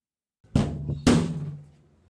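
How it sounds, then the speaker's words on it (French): Two dull knocks strike a wooden house door about half a second apart, close and fairly loud, each ringing briefly with a low resonance before fading into silence. "un coup sourd contre la porte"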